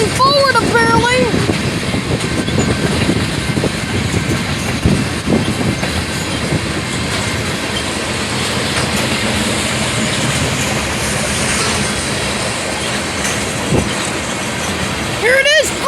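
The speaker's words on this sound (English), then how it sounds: "Here comes the engine on backwards here on video!" A train passes close by with its locomotive running backwards at a road crossing, loud rumbling wagons, clickety-clack of wheels and brief wheel squeals, with a person talking over the passing cars.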